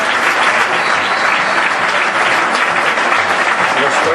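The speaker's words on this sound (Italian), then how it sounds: "Lo scrosciante applauso del pubblico che saluta le squadre schierate a centrocampo" Loud, thick applause from football spectators in a stadium greeting teams lined up at midfield, a sustained roar of clapping from a large crowd with no break.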